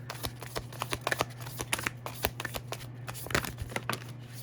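Tarot cards shuffled and drawn by hand, a run of crisp close riffling flicks and snaps in irregular bursts over a steady low hum, with no voice.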